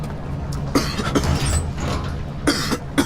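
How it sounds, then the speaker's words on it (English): A character in Amnesia: The Dark Descent coughs in several short, sharp bursts spaced across a few seconds, close and fairly loud over a low background drone. "Why am I coughing?"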